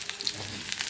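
Paneer and bottle gourd rolls fry in a pan over a medium gas flame, giving a brief, close, steady sizzle with soft crackles.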